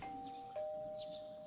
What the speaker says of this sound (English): You hear the doorbell ringing.